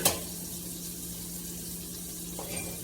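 Venison burger frying in a skillet gives a steady, faint sizzle throughout, with a light scrape or shift near the end.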